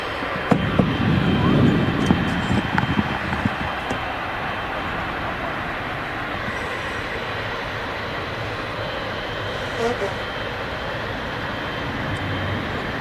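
A passenger aircraft from Palma arrives at Manchester Airport, its engines giving a broad, steady roar that is louder at first and then levels off, with faint voices in the background.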